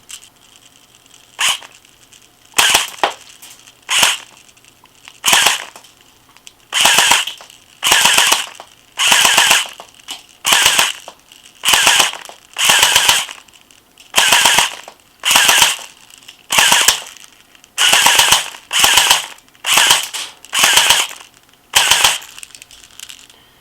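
A 2005 Crosman/UHC mini electric airsoft gun fires pellets in a long series of short, loud bursts, each a rapid buzzing rattle of shots, separated by brief pauses.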